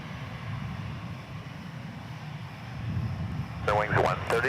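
A small Denver Air Connection plane departing DFW for Clovis gives a low engine rumble that swells toward the end, with a voice speaking over it in the last second.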